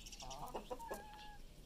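Laying hens cluck softly in a few short, quick bursts, faint and close by with no talking over them.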